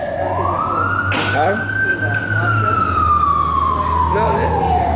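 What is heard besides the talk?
ambulance and fire truck sirens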